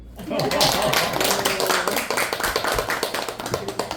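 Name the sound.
audience applause at lecture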